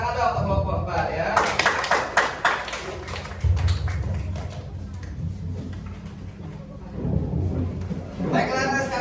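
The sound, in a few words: classroom applause for group 4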